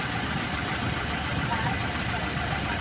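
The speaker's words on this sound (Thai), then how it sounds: "รถไถมาแล้วนะครับ ใส่รถไถดึง" A tractor engine idles steadily nearby at a roadside accident scene, a continuous low rumbling chug with a constant drone and no change in pace.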